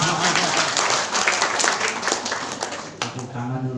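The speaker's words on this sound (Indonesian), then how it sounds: "Tepuk tangan duluan, saudara." Applause from a church congregation during a service, a dense steady wash of many hands clapping that fills the whole stretch and tapers slightly near the end.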